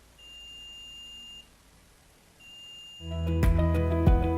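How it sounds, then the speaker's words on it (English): A piezo buzzer wired into an Arduino circuit gives two steady, high electronic beeps, each about a second long with a short gap between them. A louder, denser tonal sound then takes over and fills the rest of the clip. "I've also added a piezo buzzer in my circuit."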